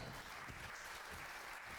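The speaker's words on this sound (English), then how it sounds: "a tidal wave of cheering washed over Kuturo, and so deafening was the roar" A crowd in the video game Puppeteer roars and cheers in a dense, steady wash of noise, loud and continuous for the whole short stretch with no pauses.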